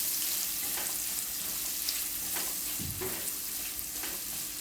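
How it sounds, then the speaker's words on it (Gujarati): Chopped onions for a paneer dish frying in hot oil, a steady broadband sizzle throughout with a few soft stirring scrapes, close and even in level with no talking. "હવે આપણે આમાં ડુંગળી નાખશું. ડુંગળીને થોડીક વાર આપણે આમાં પાકવા દેવું."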